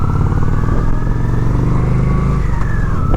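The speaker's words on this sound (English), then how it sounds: "listening to the sound of the engine and hearing the wind" A Honda Shadow 750 ACE motorcycle engine idles steadily up close with a low, rhythmic V-twin throb, loud and continuous with no talking.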